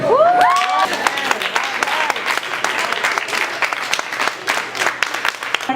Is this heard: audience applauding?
yes